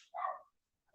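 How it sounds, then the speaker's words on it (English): A single dog bark, fairly close and clear, followed by a short pause and the start of another bark. "Let me let my dog in the house."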